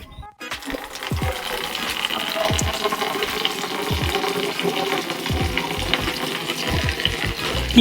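Water pours steadily into a dog's bowl ahead of a bath, a continuous splashing rush running from start to finish with small clinks and knocks scattered through it.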